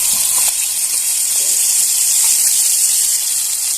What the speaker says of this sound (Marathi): मसाला छान असा परतून घ्यायचा